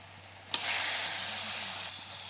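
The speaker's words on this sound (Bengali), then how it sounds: "পুরো মশলাটাকে ভালোভাবে নাড়াচাড়া করব সেদ্ধ করা উপকরণগুলো আমি দিয়ে দিব এর মধ্যে" Boiled carrot ingredients are dropped into a sizzling spice mix with soy sauce and stirred, bringing a sharp onset followed by a loud steady sizzle and scraping for over a second before it settles back to quiet.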